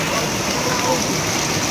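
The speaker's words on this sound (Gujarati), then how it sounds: "જોરદાર વરસાદ પડી રહ્યો છે કડિયાણા ગામમાં" Heavy rain pours on Kadiyana village, a steady, dense hiss of water filling the whole short stretch with little variation, close and loud.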